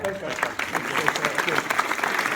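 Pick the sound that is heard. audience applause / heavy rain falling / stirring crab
audience applause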